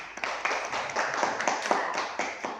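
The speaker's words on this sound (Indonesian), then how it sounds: "Tepuk tangan untuk semuanya." A class of first-grade children clapping their hands together in a quick, slightly ragged rhythm, with a few overlapping claps throughout.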